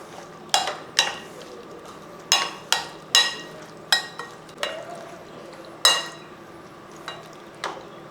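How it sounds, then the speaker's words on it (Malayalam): A spoon stirs mango, curd and salt together in a bowl, giving irregular sharp clinks and scrapes about once a second, close and clear over a quiet background. "ഇനി ഇത് എല്ലാം കൂടെ നന്നായിട്ടൊന്ന് മിക്സ് ചെയ്തെടുക്കുക"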